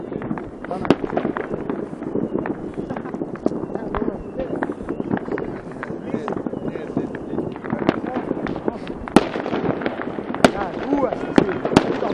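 Firework rockets launch and burst repeatedly near a children's hospital, a dense stream of crackling pops and sharp bangs, some close and loud, with people talking and shouting underneath throughout.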